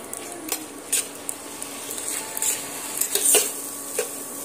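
Masoor dal frying with onion in a pan, a soft sizzle under intermittent scrapes and clinks of a spatula stirring against the metal, close and fairly quiet with no talking.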